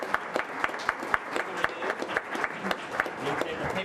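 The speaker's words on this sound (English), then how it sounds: "Let's give this young lady a round of applause" A room of people at a county commissioners' public meeting claps for a Teacher of the Year, with steady, rhythmic applause at moderate volume from a modest crowd.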